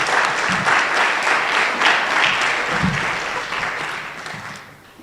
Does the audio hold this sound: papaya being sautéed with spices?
no